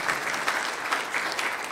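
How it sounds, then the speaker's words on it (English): A conference audience at INBOUND 2016 gives a dense, steady round of clapping that fills the room throughout, with no voices over it. "Give Gary a round of applause."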